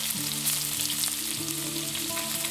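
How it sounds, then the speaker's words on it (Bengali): Shiuli leaves, bay leaf and dried red chilli frying in hot oil for a tempering, with a dense, steady crackling sizzle and a faint hum beneath it. The sound is close and continuous, with no voices. "এবার শিউলি পাতাগুলো একটু তেলেতে ভালোভাবে হতে দেবো।"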